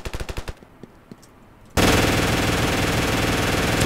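An MG42 machine gun fires in a Ravenfield video game: a short rapid burst of loud shots, a pause with a few scattered single shots, then a dense, sustained roar of continuous automatic fire to the end, with no voices.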